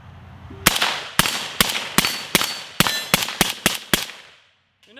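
About ten sharp suppressed rifle shots fired through a PBS-1 Wolverine suppressor with a short 8.5-inch barrel, close and evenly spaced, a few in quick doubles, each a crisp crack ending before silence.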